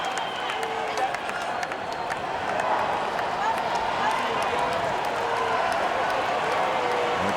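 Crowd at a 2024 US Open tennis semifinal between Taylor Fritz and Frances Tiafoe, a steady wash of applause and cheering for Tiafoe that fills the whole stretch, with a commentator's voice audible over it.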